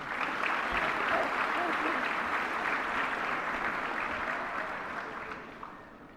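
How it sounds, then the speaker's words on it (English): A crowd at LaCreole Middle School's 2014 eighth-grade recognition ceremony gives a sustained round of applause that holds steady, then gradually fades toward the end. "Again, let's give them a round of applause for a job well done."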